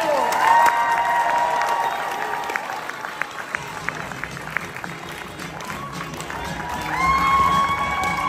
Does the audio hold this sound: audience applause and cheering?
yes